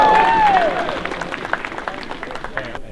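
Outdoor crowd applause at an airsoft game briefing, a dense burst of clapping with cheering and a whistle that gradually thins out, with voices mixed in.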